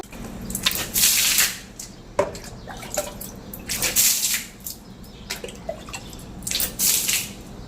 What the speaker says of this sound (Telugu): బయట వాటర్ పోసేసి కొంచెం అట్లా ఏదైనా లిక్విడ్ ఉంటుంది కదా ఆ లిక్విడ్ వేసేసి